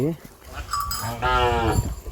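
A native-breed cow on a farm moos loudly nearby, a long low call with a rising start, heard on its own.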